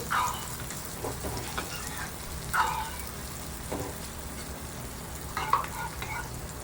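Lentils (dal) for a sponge gourd dish cook in a pan with turmeric, giving a steady low sizzle and bubbling with a few soft stirring scrapes, close and moderately quiet, no voices.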